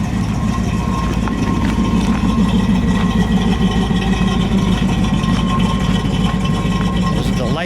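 A 1964 AMC Rambler Ambassador 990 H two-door engine idles with a steady, even rumble up close through a single exhaust, loud and continuous, while people talk briefly over it.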